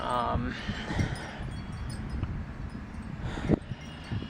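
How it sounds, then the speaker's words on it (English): Wind gusts buffet a microphone outdoors with low rumbling bursts and rustle, loud at times and spiking near the end, while someone talks about a wrestling event. "The wind is probably blocking my voice out."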